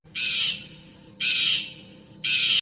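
A crow caws three times in an evenly spaced sequence, each harsh squawk loud and close, with quiet gaps between them.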